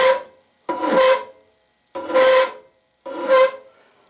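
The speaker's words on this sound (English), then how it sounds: "I don't even need a double cut file, but that's what I'm going to use to knock that off" Four slow, separate rasping strokes of a double-cut file over a cast metal sand rammer, each a loud, close, gritty scrape with brief silent gaps between, no talk.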